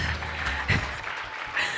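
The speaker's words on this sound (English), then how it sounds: "A reverberated round of applause" A round of applause rings out at a gala dinner celebrating a radio station's 30th anniversary, a crowd clapping steadily with reverberant room echo, moderately loud and continuous.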